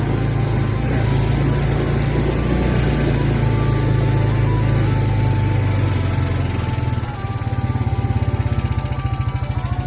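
Four-wheeler ATV engine running outdoors on a hike, a loud steady droning rumble that shifts to a choppier, pulsing idle near the end.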